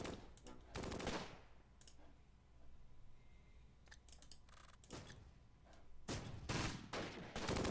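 Grenade blasts and gunfire echo in the WWII strategy game Close Combat: Battle for Caen, with sharp bursts near the start and a heavier cluster toward the end, separated by quieter crackles.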